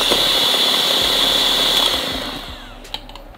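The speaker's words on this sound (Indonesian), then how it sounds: "Ini gue mixernya di kecepatan yang paling kenceng kalau di hand" A handheld electric mixer whirs at its highest speed through fudgy chocolate brownie batter, a loud steady high whine that winds down near the end, followed by a faint clack.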